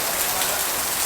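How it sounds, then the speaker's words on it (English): Steady rain pours down on a house construction site in the Philippines during a typhoon, a dense, even hiss of falling water heard close and alone with no talk. "it's raining again every 4 o'clock or 5 o'clock before we go home."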